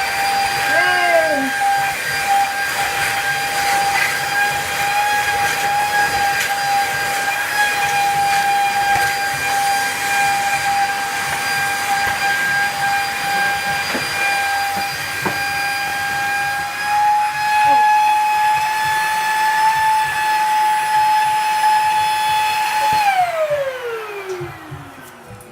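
A Hoover vacuum cleaner runs with a loud, constant whining drone and hiss that holds steady for a long stretch, then winds down in pitch near the end as the motor switches off.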